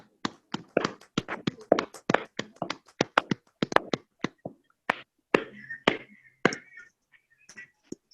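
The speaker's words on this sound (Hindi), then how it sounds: "हम लोग ताली बजाते रहे, जोरदार जोरदार जोरदार" Hands clap at a motivational training session in sharp, separate strikes, a fairly quick uneven run of claps that thins out toward the end and leaves short silences between the last few.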